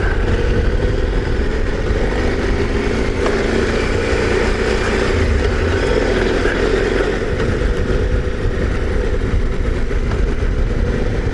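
Motorcycle engine running steadily near a mountain mine road, a continuous loud rumbling drone with no change in pace, no talk over it.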